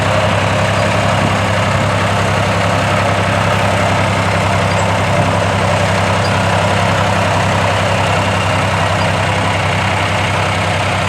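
A tractor engine on a sheep farm runs steadily close by, a loud, constant low diesel rumble with an even throb and no change in revs throughout.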